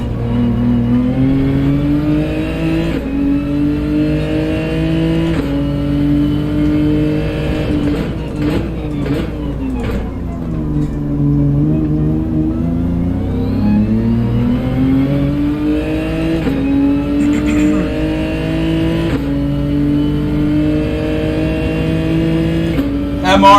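A Lamborghini Huracan race car engine in Gran Turismo holds a steady high drone, then dips and climbs again as it downshifts and revs back up, loud and continuous, with a voice talking over it.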